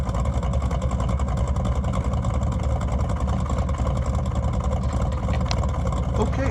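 A 1972 Corvette Stingray V8 with a Holley carburetor runs steadily, its engine drone continuous and fairly loud throughout, with a steady rumble and no clear revving peaks.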